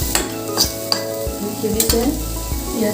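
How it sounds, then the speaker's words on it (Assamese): Potato fry cooking in a pan, a steady hissing sizzle broken by several scraping stirs and metallic taps of a spoon on the pan, heard close with no speech. "ভাজিখিনি মোৰ সিজিছে"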